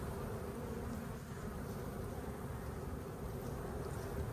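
Honey bees droning steadily around an open hive during an inspection, a dense, continuous buzz close by with no voices.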